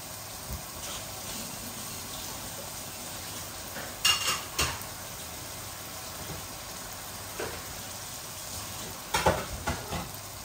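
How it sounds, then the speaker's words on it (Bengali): Meat, potatoes, chicken gizzards and feet with a handful of spinach stirred while frying in a pan, a steady soft sizzle with scattered scraping clinks of the spoon, louder bursts near the middle and end. "এগুলো নাড়াচাড়া করতে করতে এমনিতে ভুনা হয়ে যাবে।"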